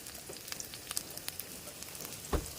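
Garlic and onion sautéing in a pan for a vegetable dish, a steady close sizzle with scattered small crackles and pops and one louder stir or clatter near the end.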